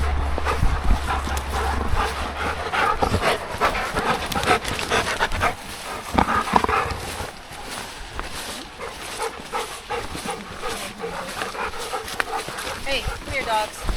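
Dogs bark and pant amid steady outdoor noise on a hiking trail, with people talking over them throughout.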